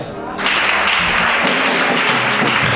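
A church congregation applauds during a worship service, a loud, sustained wash of clapping that starts abruptly and continues steadily to the end.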